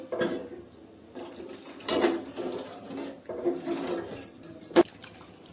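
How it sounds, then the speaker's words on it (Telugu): Water pours into a pot of fish curry in a couple of short splashing bursts, with clinks of a vessel against the pot between them. "2 kg ఫిష్ కాబట్టి ఇంకొంచెం వాటర్ వేసుకుంటాను నేను"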